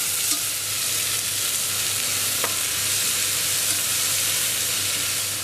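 Onions and garlic fry in a pan with a steady, close sizzle and hiss, interrupted briefly by a faint clink of stirring.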